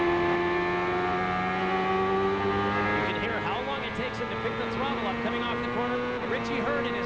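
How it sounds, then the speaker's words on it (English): A 1999 Reynard CART race car's engine comes off a corner onboard, a loud sustained multi-toned drone with the pitch climbing as the throttle is picked up, under a commentator's voice. "You can hear how long it takes him to pick the throttle up coming off the corner."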